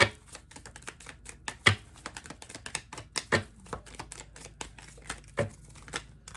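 Tarot cards shuffled by hand during a pick-a-card reading, giving a run of quick, close papery riffles and sharp clicks with louder snaps at irregular intervals.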